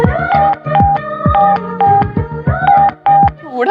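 Telephone keypad dialing tones for a prank call, a quick series of about ten loud DTMF beeps in uneven bursts with short gaps, no voices.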